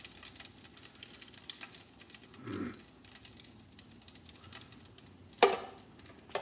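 A sausage fries in hot grease with a soft, steady sizzle and crackle close by, a brief louder sputter partway through and a sharp clack near the end.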